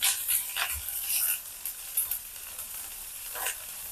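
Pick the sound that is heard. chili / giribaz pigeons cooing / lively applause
chili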